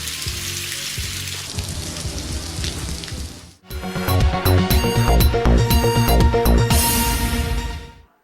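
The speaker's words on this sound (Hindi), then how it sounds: "चोलिस्तान में खुश्क साली के बाद पहली बारिश हुई है।" Steady rain falls in the Cholistan desert, the first after a long drought. A dense, even hiss fills the first three and a half seconds, then music takes over and continues to the end.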